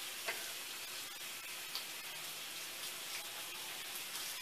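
Potatoes fry in a thin layer of oil in a pan, giving a faint, steady crackling sizzle with scattered small pops and no talking.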